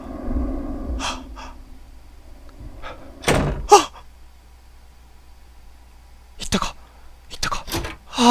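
A wardrobe door in the Ao Oni horror video game, opening and shutting with a couple of sharp wooden bangs and thuds, mixed with hurried breathing and gasps and separated by quiet pauses.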